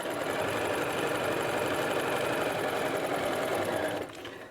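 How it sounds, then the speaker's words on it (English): A sewing machine runs steadily, stitching the yoke of a McCall's 8031 dress, with a continuous close motor whir and needle rattle that slows and drops off near the end. "I'm going to start stitching, and then I'm going to back stitch and go forward again"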